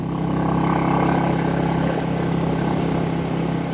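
A 1959 Indian Fire Arrow motorcycle engine runs in high gear on a ride, a loud, close, even drone holding steady without pause.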